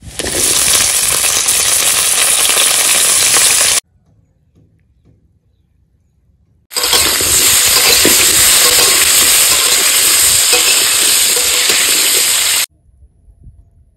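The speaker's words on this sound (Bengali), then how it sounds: "তেল গরম হয়ে গেছে, এবার আলু দিয়ে দেবো" Potato pieces dropped into hot oil at an outdoor picnic cook, giving two long bursts of loud, dense sizzling and hissing separated by a quiet pause, with a faint lull at the end.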